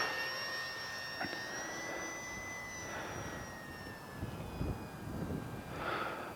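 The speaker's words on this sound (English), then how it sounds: "Even for being a smaller airplane and it being a little bit windy out here, this thing flies super good." An Arrows P-51 Mustang 850mm RC airplane flies overhead on a windy day at about half throttle, its thin motor whine faint and distant, shifting slowly in pitch as it passes over a breezy background.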